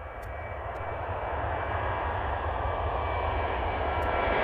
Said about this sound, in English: The Kuwait government Boeing 737 plane has a tail strike while performing takeoff from the Prestwick Airport.